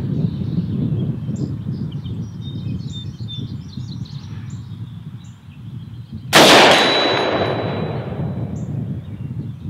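A single loud, sharp rifle shot of .223 Remington Hornady Black 62-grain ammunition cracks outdoors and rings out with a long decaying echo, preceded by a quiet outdoor background with faint bird chirps.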